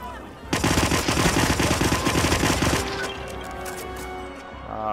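Rapid automatic gunfire from the Hitman video game, a dense continuous burst lasting a couple of seconds, then fading into lighter game effects.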